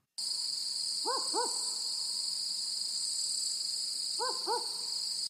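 Recorded owl hoots come in two paired bursts, one early and one late, over a steady high insect drone. No one speaks.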